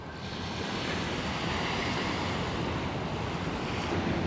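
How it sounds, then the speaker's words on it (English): Waves washing onto a beach in Singapore near a working port with ships offshore, a steady broadband roar of surf mixed with wind noise on the microphone, continuous and close. "You can see some of the working ships, and this is the beach."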